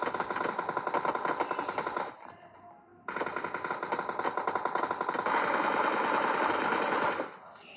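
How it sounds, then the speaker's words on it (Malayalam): Rapid automatic gunfire rattles in fast, dense bursts, a long volley, a brief pause near the two-second mark, then another sustained burst that cuts off near the end, with no talking. "നമുക്കും വെടിവെക്കാം ഗൈസ്."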